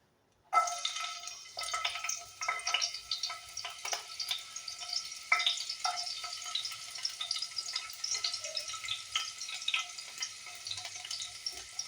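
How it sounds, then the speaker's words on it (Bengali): Chopped garlic and onion hit hot oil with a sudden sizzle while making egg chowmein, then keep crackling and popping steadily, with occasional stirring clinks and no talking. "এবারে রসুন কুচিগুলো দিয়ে দেব দিয়ে তারপরে তার মধ্যে পেঁয়াজ কুচি দিয়ে ওটা একটু ভেজে নেব"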